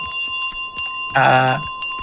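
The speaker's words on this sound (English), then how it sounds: "We can do the thing where we drop a bell really quick and honk before, and that guarantees it." A bell dropped by the goose in Untitled Goose Game rings once with a bright, sustained metallic tone, loud and close, over steady game ambience.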